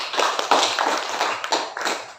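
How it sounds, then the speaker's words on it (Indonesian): Applause from a class of primary school pupils in an Indonesian madrasah lesson on measurement, several seconds of dense hand clapping with a few louder bursts. "Coba dulu, tepuk tangan untuk semuanya."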